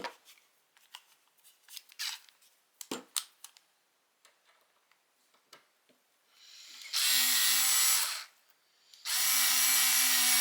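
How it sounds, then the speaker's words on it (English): Power drill driving a screw into a cabinet door hinge, two loud sustained whirring bursts of about two seconds each, following quieter clicks and handling noises. "Going to put a screw in."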